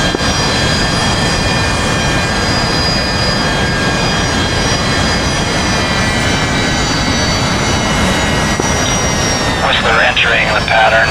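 Steady loud Harrier jet engine roar with a high whine from the video game DCS, continuous and close, with voices speaking over it.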